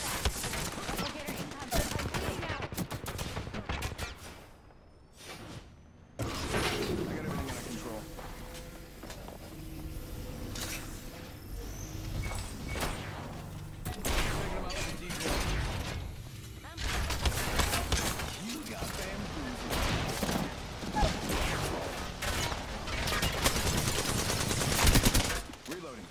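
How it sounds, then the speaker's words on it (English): Rapid bursts of gunfire fill a round of the Apex Legends video game, with repeated sharp shots and automatic fire coming in clusters at varying distances and a player talking throughout. "One second, getting shot at."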